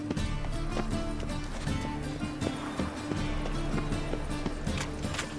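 A horse galloping in The Witcher III: Wild Hunt, its hoofbeats a steady rhythmic thudding over a constant game background hum, fairly loud and continuous.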